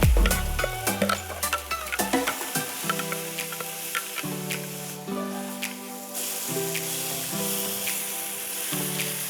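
Spices, tomato and chili paste for a chicken curry frying in a pan, a steady loud sizzle with scraping stirs and occasional clinks, no voices.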